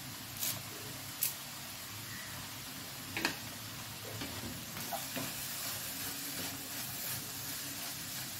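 Curry leaves dropped into a hot pan of banana stem thoran, giving a steady soft sizzle with a few sharp pops and crackles, close and fairly quiet.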